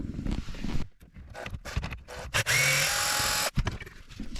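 T30 Torx screws are driven out of an interior trim panel in a Porsche 997. Scattered handling clicks and rustles lead into a one-second burst of close, high whirring from a driver, then sharp clicks.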